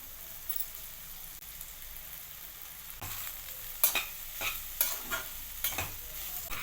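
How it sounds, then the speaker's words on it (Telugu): Precooked rice being tossed into spiced vegetables in a pan for masala rice: a quiet sizzle at first, then several distinct scraping stir strokes that come in a rough rhythm and grow louder near the end. "మనం ఇలా ముందుగా సిద్ధం చేసి పెట్టుకున్న రైస్ని ఇందులో వేసి కలపాలి"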